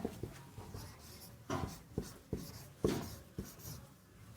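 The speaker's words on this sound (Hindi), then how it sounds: "यहाँ पर लिख लेते हैं हम लोग" Pen or chalk strokes of note-writing during a lesson on the Indian Constitution, a series of short scratchy taps and scrapes in an irregular rhythm, close and fairly quiet, with no talking.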